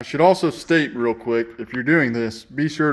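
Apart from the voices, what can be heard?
No everyday noise stands out behind the speech.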